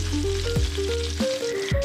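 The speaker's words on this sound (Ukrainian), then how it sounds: "періодично помішуючи, смажити до готовності" Steady frying sizzle of fat and onion in a pan, continuous and close, with a few faint tonal hums and clinks over it.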